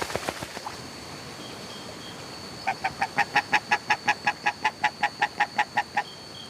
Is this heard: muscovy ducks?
yes